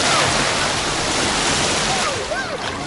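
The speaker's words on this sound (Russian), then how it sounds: "Это волны маленькие, прикольно." Small sea waves wash and splash continuously at close range on a beach, a broad steady rush with wind noise on the microphone and brief voices toward the end.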